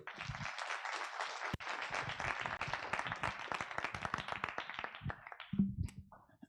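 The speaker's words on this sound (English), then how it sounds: "Give him another round of applause." Audience applause at a medical school white coat ceremony, close, crisp clapping from many hands with sharp individual claps, fading near the end.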